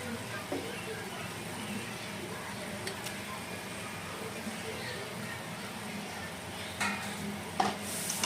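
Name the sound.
chicken meat sizzling and stirred in spiced oil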